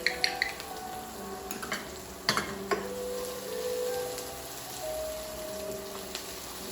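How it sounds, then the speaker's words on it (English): Potatoes added to a pan with ginger for samosa filling, sharp metallic scrapes and clinks of a spoon against the pan in quick bursts, followed by softer stirring and a light sizzle. "Then we're going to add our potatoes."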